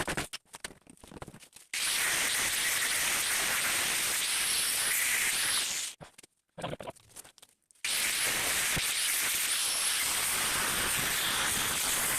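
Wet liquid sprays out of a part on a 1968 Charger during an AWD body swap, giving a loud, harsh hiss in two long bursts separated by a brief near-silent pause.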